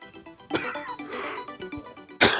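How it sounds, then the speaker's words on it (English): A person coughs repeatedly close to the microphone, with abrupt rough bursts at the start and a louder one at the end, over a cluttered background. "I got so much coughing."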